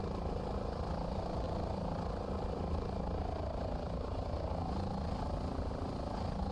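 A helicopter in Microsoft Flight Simulator flies over Auckland, New Zealand, its rotor and engine making a constant, dense whirring drone that holds steady throughout, with no talking.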